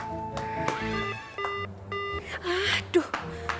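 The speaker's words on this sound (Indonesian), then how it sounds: "buruan telepon Apoy." Telephone keypad tones during an urgent call in an Indonesian TV drama scene, a quick run of short steady dialing beeps mixed with music and background sound, fairly loud throughout.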